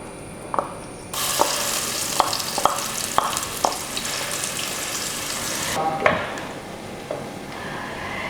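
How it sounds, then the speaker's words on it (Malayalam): Ground spice paste sautéing in hot coconut oil for a fish curry, with a loud sizzle bursting in after a second and holding steady, broken by several sharp scrapes and stirs of a spoon against the pan. "ഇനി ഇത് നന്നായിട്ടൊന്ന് വഴറ്റി കൊടുക്കുക. ഒരു 2-3 മിനിറ്റ് നമുക്ക് ഇങ്ങനെ ഒന്ന് വഴറ്റി കൊടുക്കാം."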